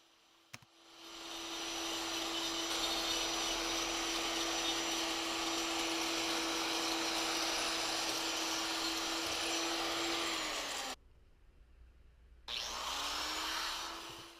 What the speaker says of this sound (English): I'll get the die grinder again and just brush it along the tops of the grooves to lighten them up